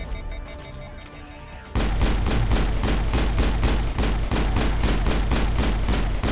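Rapid automatic gunfire in the video game Mass Effect, a steady loud burst of regular shots starting after a quieter opening and continuing to the end, with no talk.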